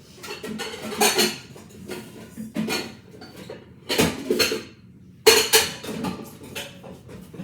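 A second bowl being taken out and handled for bread making, with several separate clunks and clatters of kitchenware spaced apart, close and fairly loud, with quiet gaps between them.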